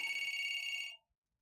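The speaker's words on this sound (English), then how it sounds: "Not the phone ringing." A telephone bell rings in one sustained burst lasting about a second, bright and fairly close, then cuts off to near silence.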